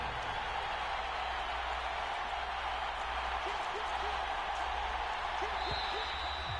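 Steady broadband stadium crowd roar from an American football game in Madden 25, a dense continuous wash of cheering with faint scattered whistles, holding evenly throughout with no talk.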